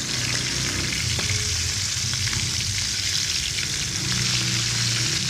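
Steady, dense sizzling of chicken wings frying in hot oil in a pan fills the whole clip, constant and close, with faint clinks as pieces are turned.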